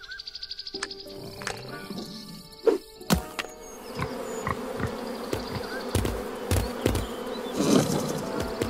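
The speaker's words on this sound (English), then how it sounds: "I hope I can get through before the bees return." Bees buzz in the hidden-object adventure game Lost Lands 9, a steady insect drone running throughout, with sharp thuds and clicks from game effects and a denser burst near the end.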